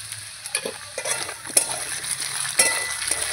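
Taro pieces fry in oil in a pan, a steady sizzle broken by sharp clinks and scrapes as they are stirred, loud and close with no voices.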